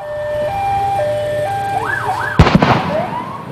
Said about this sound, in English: we're told that was a flashbang, a device used to disorient suspects without hurting them, and that was likely what the loud sirens were trying to do as well